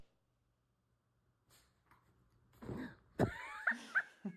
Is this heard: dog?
yes